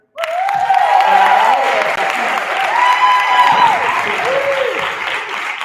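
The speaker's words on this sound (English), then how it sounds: "So, can we round of applause to Sharon?" Loud, sustained applause from a crowd, mixed with whoops and cheering voices rising and falling.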